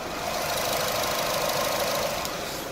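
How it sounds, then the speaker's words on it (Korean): An imported sedan's engine idles steadily up close with the hood open, a smooth, even hum with a faint regular ticking, no voices. "굉장히 정숙하고 규칙적인 엔진 사운드 들려주고 있고요"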